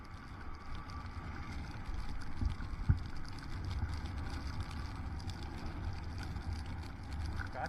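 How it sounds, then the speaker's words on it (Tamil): Strong wind buffets a vehicle on a rainy ride from Theni to Munnar, a low, steady rush of noise at moderate level with a couple of brief thumps in the middle and no talking. "காற்று பயங்கரமாக இருக்குங்க."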